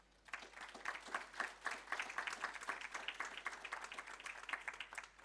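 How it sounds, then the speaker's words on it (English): Audience at a renewable energy investment seminar hall applauding a panel member, a dense, even burst of clapping that starts sharply and holds steady at moderate loudness. "A round of applause for him, please."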